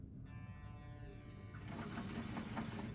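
A small Hornby Thomson Class O1 model locomotive motor whirs steadily at high speed, a continuous mechanical hum that grows slightly louder partway through.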